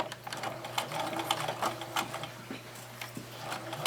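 Sewing machine back tacking and stitching fleece with a half-inch seam allowance, a close, continuous rapid mechanical chatter with a steady low motor hum throughout.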